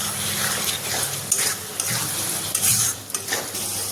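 Cumin and turmeric powder hit a salted pan for a cabbage dish, crackling with a close sizzle as a spoon scrapes and stirs in short repeated strokes.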